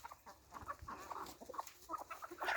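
Rooster clucking on a farm among other fowl, with short, repeated clucks and squawks close by over a busy, continuous bed of bird and farmyard noise.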